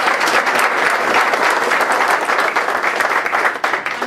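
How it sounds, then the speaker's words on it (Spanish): Loud, close applause from an audience greeting a speaker, a thick continuous roar of many clapping hands that holds steady and then begins to thin out near the end. "Un aplauso para él."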